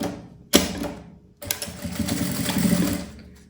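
A sewing machine runs two short bursts of stitching through fabric for a small Mickey-themed zippered pouch, close and fairly loud, separated by a brief pause.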